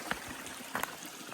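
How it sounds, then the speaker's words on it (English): A mountain stream in the 100 Mile Wilderness flows as a steady wash of water with a few soft splashing bursts, heard at moderate distance with no talking. "Coming down here, stream, coming down the mountain."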